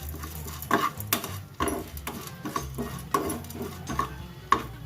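Urad dal dry roasting in a pan with no oil, stirred with a utensil: repeated scraping and clinking strokes of spoon against metal, close and fairly loud, with little sizzle and no talk.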